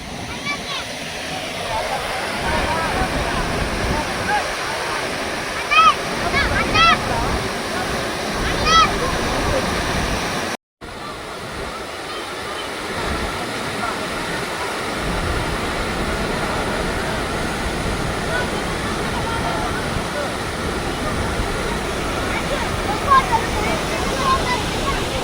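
Athirapalli waterfall, a continuous loud roar of rushing water heard close up, steady and dense throughout with one brief dropout midway, voices faintly mixed in.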